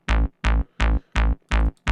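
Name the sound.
synth bass with two-octave sub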